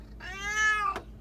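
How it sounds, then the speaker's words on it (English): Single clear meow from a cat, rising and then falling, close and moderately loud, ending with a short faint noise and no talk. "You have that more pronounced meow."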